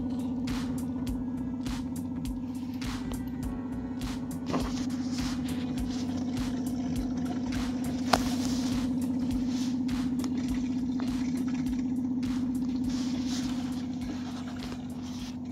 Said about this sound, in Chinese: 然后它的滤水的声音。